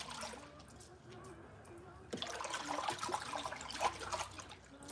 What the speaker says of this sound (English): And that is some hot water.